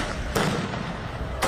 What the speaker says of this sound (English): एक बार फिर से आंसू गैस के गोले छोड़े हैं